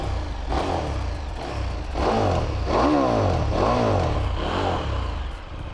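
Brand new KTM 1390 Super Duke R EVO motorcycle revving repeatedly, a loud close engine that rises and falls through several throttle blips, alone without talking.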